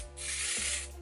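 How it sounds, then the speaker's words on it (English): A single steady hiss of hairspray from an aerosol can lasting about a second, close and fairly loud, with no talking. "I'm gonna just use some regular hairspray and spray it."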